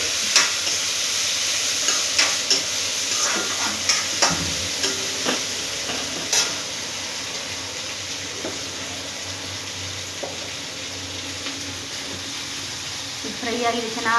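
Chopped bottle gourd palya fries in a pan. A constant bright sizzle carries scattered clicks and scrapes of stirring that thin out as it goes on, ending with a few louder knocks. No voices.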